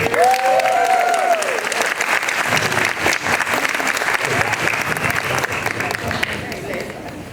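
An audience applauds at the end of a talk, a loud, sustained burst of clapping that keeps going for several seconds, with a voice heard over it at the start.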